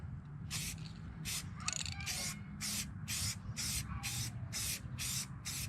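A Jeep JKU bumper is spray painted up close, with about ten short, evenly spaced hissing bursts from the can over a low steady background hum and no talking.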